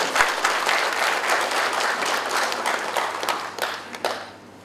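An assembled audience at the opening of a disaster-preparedness training in Bandung bursts into full, dense applause. The clapping holds steady and then tapers off to quiet in the final second.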